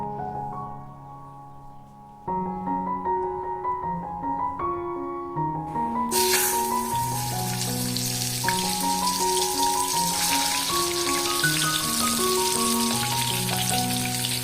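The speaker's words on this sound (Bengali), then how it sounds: "আমি তাতে পরিমাণ মতো তেল দিয়ে একে একে মাছগুলোকে ভেজে নেব" Hot oil sizzles loudly after a quiet start as pieces of katla fish hit the pan one by one, crackling steadily over a gentle melodic music track.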